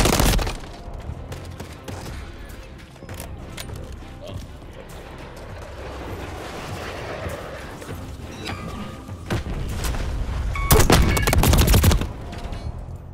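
Shotgun blasts in the Call of Duty MW3 beta video game, a few loud booming shots spaced apart among other game gunfire and clatter, with people talking over it.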